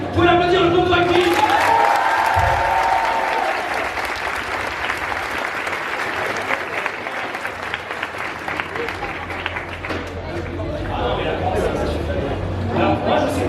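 Audience at a Lyon esports event applauding a band, a dense, loud wash of clapping with cheers and whoops that carries through the whole stretch and swells again near the end.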